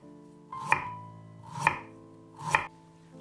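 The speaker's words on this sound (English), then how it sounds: "Peel a piece of ginger. Cut 10 thin slices." A knife cuts thin slices from a peeled piece of ginger, giving three crisp, evenly spaced chops on a cutting board, close and clean, with a low kitchen hum between strokes.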